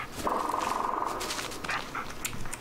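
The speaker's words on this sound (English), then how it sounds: "Listen to his barking and watch his body language." Bullet, the dog companion in the Blair Witch video game, barks several times in quick succession with a sustained whine, close and fairly loud amid outdoor game ambience.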